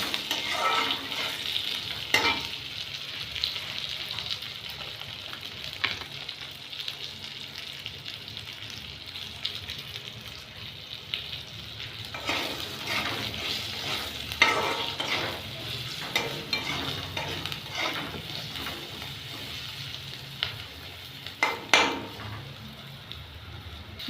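Puti and rui fish fry and get stirred in a pan, a steady close sizzle running throughout with scraping stir strokes and occasional sharper knocks of the utensil against the pan, no talking.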